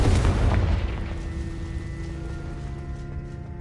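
A Confringo blasting-spell explosion in Hogwarts Legacy: one heavy, deep boom that hits at once, then rumbles and rings out over a few seconds, loud and alone.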